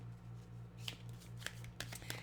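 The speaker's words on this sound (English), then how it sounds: "And we'll give it a fast shuffle." A deck of tarot cards gets a fast shuffle, heard as a few faint, sparse papery flicks and snaps over a steady low electrical hum in a quiet room.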